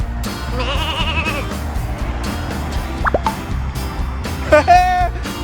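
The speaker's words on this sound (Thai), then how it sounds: "เจอแกะตัวเล็ก แกะน้อยน่ารักเต็มเลยดูเร็ว" Sheep and small lambs bleat in short wavering calls near a group of people at a farm, heard amid continuous background chatter and a few plopping sounds.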